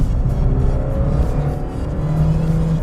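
A Renault Clio Williams hot hatch engine revs hard past 4,000 rpm, a loud, close, rising mechanical drone without speech.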